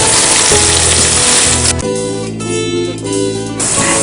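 Onion and garlic hit a hot pan with a loud, steady sizzle that roughens and shifts partway through as the ingredients are stirred, close and continuous with no talking.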